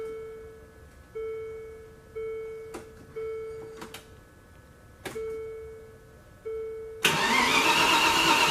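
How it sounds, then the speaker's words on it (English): A Land Rover Discovery Series 2 with a newly installed head gasket gives a chime and repeated steady electric hums as the fuel pump primes, cut by clicks of the key. The engine then cranks and catches into a loud, close roar. "when you first turn the key on cold, it will activate the fuel pump to pressurize the system"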